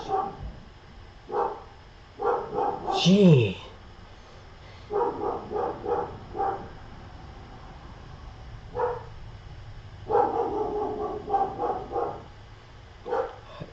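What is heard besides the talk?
dog barking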